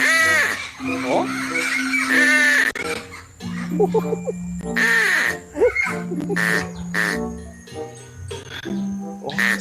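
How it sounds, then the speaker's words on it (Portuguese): Harsh, croaking toucan calls repeat in clusters over several seconds, mixed with people talking nearby. "Mas esse é o barulho do tucano mesmo."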